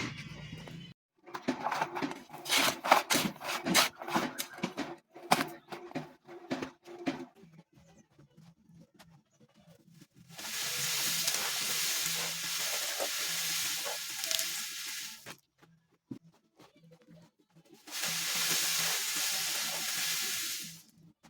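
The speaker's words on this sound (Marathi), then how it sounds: "चला फटाफट चाळून घेऊया माती" Soil being sifted through a sieve in a shaded outdoor spot, as sand is readied for construction work: bursts of gritty rattling at first, then two long, steady hissing stretches of grains pouring through mesh, with quiet gaps between.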